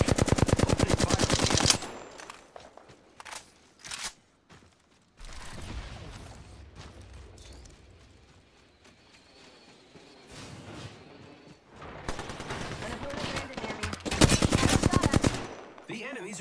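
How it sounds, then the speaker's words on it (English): Enemy gunfire in the video game Apex Legends comes in loud rapid automatic bursts, separated by quieter stretches with faint movement sounds and a brief voice. "The enemies are shooting at me"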